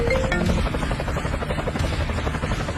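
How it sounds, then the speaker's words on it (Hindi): A helicopter's rotors thud in a fast, steady beat with a loud engine whine, close and continuous throughout, with a faint voice briefly over it at the start. "अरे ये तो करोड़ों का हेलीकॉप्टर है"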